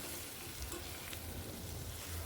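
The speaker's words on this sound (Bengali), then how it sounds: "দু থেকে আড়াই মিনিট মতো ভেজে নেব" Potato, pointed gourd and tomato fry with only turmeric and salt in a pan, giving a soft, steady sizzle that holds evenly through a brief stretch with no voices.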